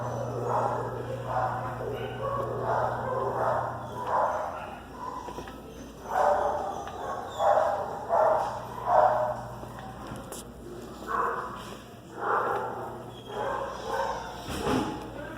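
Dogs at an animal shelter bark and yip in scattered bursts, close by and echoing in a room, along with footsteps and some faint background voices.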